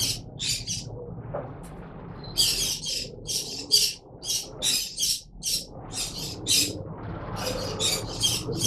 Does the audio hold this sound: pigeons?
yes